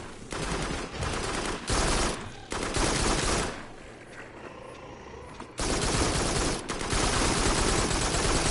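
Sustained gunfire from Farpoint VR, long loud bursts of rapid shots broken by short pauses and a quieter stretch midway before heavy firing resumes.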